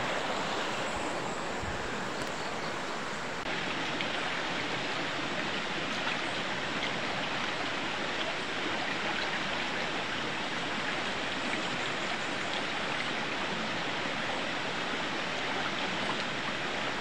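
Creek water flows steadily in a continuous, full rush of broadband babbling that holds even from start to end, nearby and with no voices.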